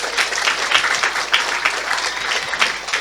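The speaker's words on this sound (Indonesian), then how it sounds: "Tepuk tangan dulu buat semuanya." An audience applauds inside a mosque during a religious lecture: a steady, dense wash of many hands clapping together for about three seconds, moderately loud with no voices over it.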